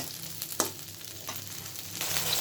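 Crushed ginger and green chili frying in a pan for a Kashmiri paneer dish, a soft steady sizzle with a few stirring scrapes, fairly quiet and without talk.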